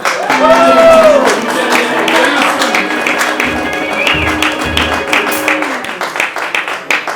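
A live music audience gives a drummer a round of applause, scattered claps rising beneath a speaking voice and growing sharper and more prominent toward the end.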